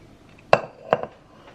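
A small cast iron skillet is handled, giving two or three sharp metallic clanks, the first the loudest, each decaying quickly into near quiet.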